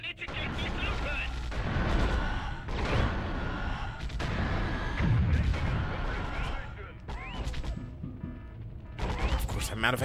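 Gunfire in the shooter Warhammer 40K Fire Warrior aboard a large corrupted ship, repeated heavy bursts and impacts in irregular clusters, loud and close, with a voice talking over parts of it.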